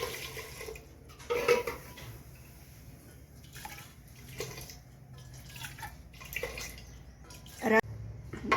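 Water poured into a pressure cooker holding khichdi, a soft uneven trickle and splash with clinks of metal, fairly quiet and close.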